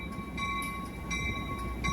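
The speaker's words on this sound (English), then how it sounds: "Capital Corridor train 540, now leaving Oakland, Jack London Square." Amtrak Capitol Corridor train 540 pulling out of Oakland Jack London Square northbound, led by locomotive 6962: a steady rumbling roll of rail cars with sustained tonal ringing, heard continuously at moderate distance.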